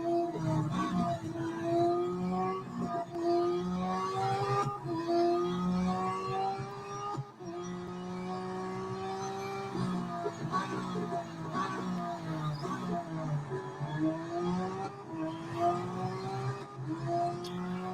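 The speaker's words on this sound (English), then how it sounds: "race the 2023 Ferrari F1 car around this circuit, 20 laps" A 2023 Ferrari F1 car racing around a circuit in the video game Real Racing 3, its high engine whine rising and falling steadily through gear changes for the whole stretch, loud and continuous with no talking.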